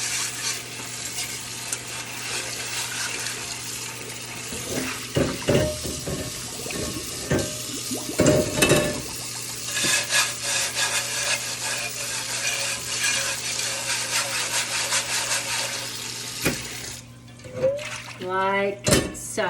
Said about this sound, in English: I'm going to give it a really good scrub